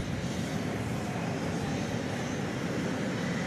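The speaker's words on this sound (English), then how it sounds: "Tail end of a Delta touchdown." A Delta Airbus A320 arriving from Minneapolis–St. Paul rolls out after touchdown on an airport runway at night, a continuous loud broadband engine roar and rumble holding steady throughout, with no voices.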